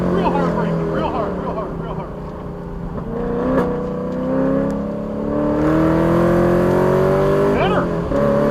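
A car under hard braking on a race track during an open track session, with a steady engine and road roar that shifts in pitch throughout, mostly under an instructor's talk.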